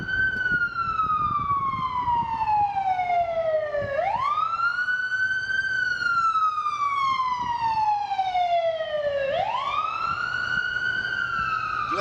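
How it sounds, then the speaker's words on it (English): A loud wailing siren sweeping slowly down and then snapping back up, repeating in long cycles, close and continuous. "glad that siren's going off"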